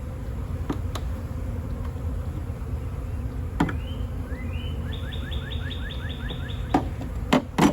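A relocated honey bee swarm being moved into a nuc box in North Texas, a steady low buzz of bees close by throughout, with a few bird chirps and brief knocks over it.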